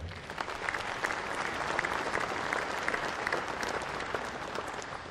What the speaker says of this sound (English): let's give all of them a big round of applause today